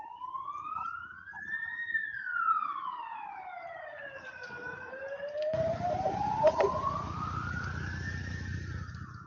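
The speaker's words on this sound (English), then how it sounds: "There was an ambulance in the back." An ambulance siren passes outside during a recorded lecture, wailing in slow rising and falling sweeps, moderately distant, with room noise thickening partway through.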